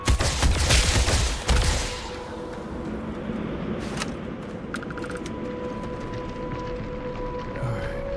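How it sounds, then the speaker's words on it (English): A flashbang grenade goes off in Starfield played in VR: a loud close blast for about a second and a half, then a sustained high ringing tone over a low rumbling wash that fades to a steady hum. "Look away, it's a flashbang."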